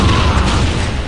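Gunfire crackles in a Warhammer 40,000: Dawn of War – Dark Crusade battle against the Tau, a dense, loud rattle of shots blending into a continuous low rumble for about a second.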